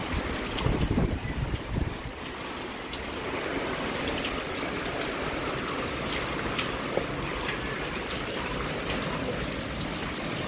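Strong night wind gusting around a shelter during a storm, a steady broad roar with rougher bursts early on, heard close and moderately loud, with rain-like hiss and no talk.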